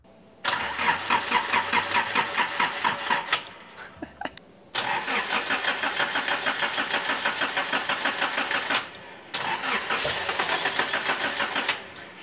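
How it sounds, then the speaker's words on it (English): A Nissan S12 engine run on a Speeduino standalone ECU cranks on its first start: two long bursts of rapid, rhythmic starter churning, loud and close, separated by brief pauses, with no catch. "How many startup attempts do you think it's gonna take for this thing to actually run?"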